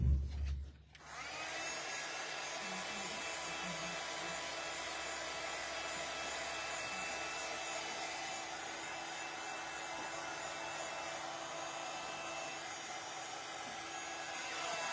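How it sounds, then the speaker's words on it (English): A heat gun blows steadily and close by for most of the stretch, a continuous loud whooshing roar used to dry shimmering mica metallic ink on a papercraft card, starting abruptly after a brief knock. "So I'm just going to whiz this a little bit on my heat gun."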